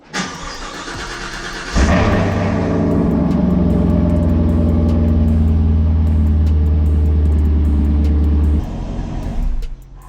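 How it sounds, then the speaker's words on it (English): A 2021 Chevrolet Camaro SS cold-starts with a sharp crank and loud roar, then settles into a steady, heavy idle close by for several seconds before dropping lower near the end, with no talking. "I'm about to give you guys a cold start"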